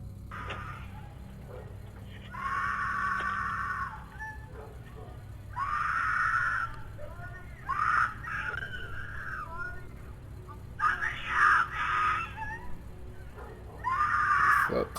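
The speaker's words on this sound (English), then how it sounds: "The disturbing footage of a woman screaming for help was captured from a Ring doorbell's camera" A woman's high, strained screams recorded by a home doorbell camera at night, coming in repeated bursts of a second or two with pauses between, over a low steady background hum.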